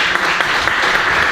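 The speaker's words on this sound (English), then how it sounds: "Okay, round of applause for all of you." Audience applause at a workshop, a dense, steady wash of many hands clapping at close range for just over a second with no talk on top.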